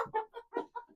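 Around thirty-five chickens kept in a small coop building, with a series of five or six short clucks in quick succession, close and fairly soft against a quiet background.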